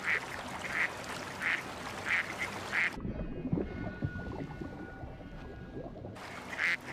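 Ducks quack in short repeated bursts, a gap of rustling water sound in the middle, then the quacking resumes, fairly close and moderately loud.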